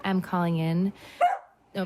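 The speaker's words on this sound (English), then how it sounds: "that's my dog" A pet dog barks a few times in a home in New York City, the yaps loud and close, cutting in around a voice as she speaks on a call.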